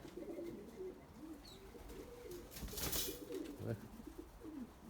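Pigeons and turtle doves coo softly at spilled wheat, low repeated throaty calls near the ground, with a brief rustle and flutter partway through.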